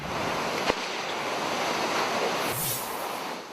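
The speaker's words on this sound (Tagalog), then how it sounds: "malakas na paghampas ng hanging naranasan sa probinsya dulot ng bagyong Nika" Strong typhoon wind roaring continuously in a broad rushing wash, with a sharp knock early on and a gusty whoosh near the end.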